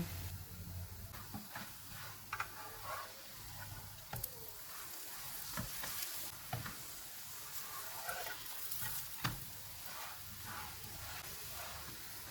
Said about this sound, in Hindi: दोनों साइडों पे घी लगा के इसको पका लेंगे।